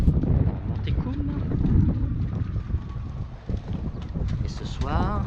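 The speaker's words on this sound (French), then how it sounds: "Il y a un vent à décorner les bœufs." Strong wind buffets a Dufour 375 sailboat moored at Port Camargue, a loud gusty roar rushing over the microphone while someone speaks over it.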